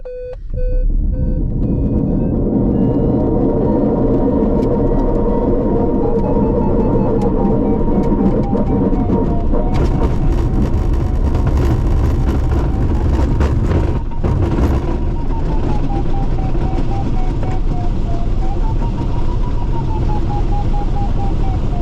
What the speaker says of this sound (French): décolle en piste 28 avec un planeur.